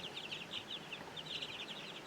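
Young chicks about nine days old in a brooder peep and cluck in quick, high chirps, several birds calling in bursts over a low background hum, close by.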